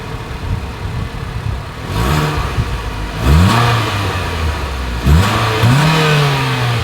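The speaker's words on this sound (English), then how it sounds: "As always, here is that exhaust clip." A 2024 Mitsubishi Outlander Sport's exhaust revs three times over a steady idle, each blip climbing sharply then falling back, loud and close.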